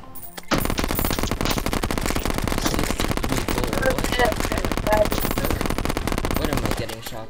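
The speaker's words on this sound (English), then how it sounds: "What am I getting shot by?" Rapid automatic gunfire in a video game rattles nonstop for about seven seconds, dense close bursts, with a voice speaking underneath.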